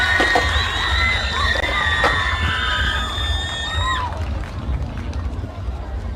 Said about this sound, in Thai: เสียงปรบมือหน่อยๆกับน้องๆจากโรงเรียนเวียงป่าเป้าด้วยครับ